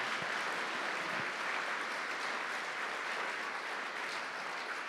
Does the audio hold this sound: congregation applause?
yes